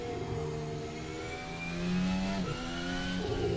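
A Formula Hybrid 2025 racing car engine in the video game rFactor 2 revs up and down in steady, harmonic whines, rising sharply near the end, loud and close with no talking.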